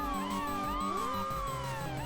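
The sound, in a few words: police siren in the video game Highway Game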